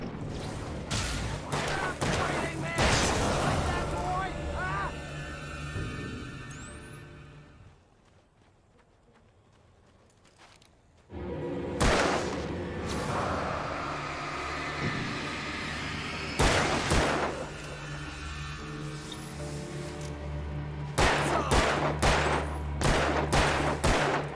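Gunfire from the video game Alan Wake crackles in dense, repeated bursts and volleys, falling to a brief quiet lull midway before the shooting resumes just as heavily.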